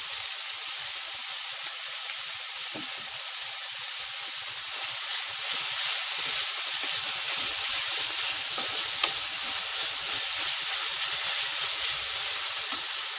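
Sliced onions with a little salt sautéing in a pan for chicken curry, a steady, even sizzle and hiss that holds throughout with occasional faint stirring scrapes and no talking.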